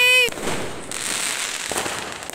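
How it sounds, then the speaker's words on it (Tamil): Diwali firecrackers bursting outdoors: a sharp burst at the start followed by a sustained crackling, hissing wash of distant pops, with a couple of fainter bangs later. "பாருங்க எல்லாமே வெடிச்சிட்டு இருக்குது பாருங்க இதா இதான் வெடிச்சிட்டு இருக்காங்க"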